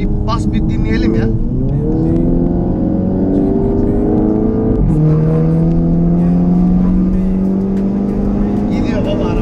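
A stage 2 tuned 2016 Audi TT making 350 hp accelerates hard and loud, its engine note climbing steadily, with a gear change around halfway before it pulls up in pitch again. Voices can be heard briefly over the engine.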